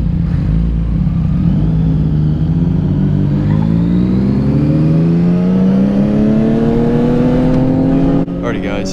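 Several sport motorcycles, a Yamaha R6, MT-07 and FZ6R, ride together at night, a steady loud engine drone with rising revs as they accelerate, heard close up and continuous throughout.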